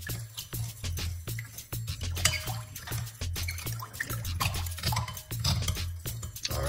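Half a teaspoon of baking soda goes into water and is stirred, with repeated clinks of a spoon against the glass and small liquid splashes in a steady rhythm, close up and without speech.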